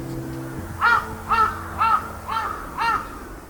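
Five evenly spaced crow caws ring out between buildings in Tokyo, Japan, over a low hum of city background.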